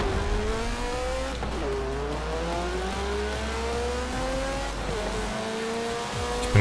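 A Lancia race car in Forza Horizon 4 drives continuously, its engine droning and revving through gear changes with rising and falling pitch, loud and steady throughout with no talking.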